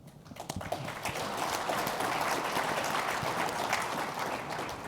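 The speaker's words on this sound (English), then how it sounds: "if everyone is willing to give it an applause, and thank you, and thank Warren, and thank Charlie." Steady audience applause fills a conference hall at a Berkshire Hathaway panel during an Omaha value investor conference, a few scattered claps at first swelling into sustained even clapping that holds throughout.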